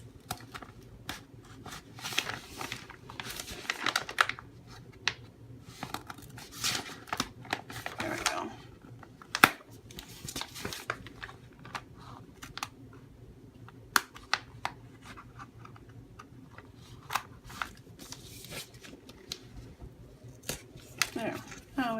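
A seam ripper picking extra thread out of a reusable shopping bag being turned into a junk journal: a long run of small, close, irregular snips and scratchy pulls, with a person talking softly between them.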